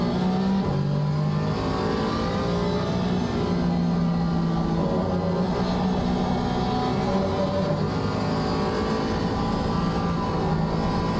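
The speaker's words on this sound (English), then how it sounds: "ride on board through the final sector with Josh Ransom in his 325 Porsche Cayman" Porsche Cayman race car heard on board at Snetterton circuit, a loud, continuous engine drone with shifting pitch as it revs and eases through corners, no talk over it.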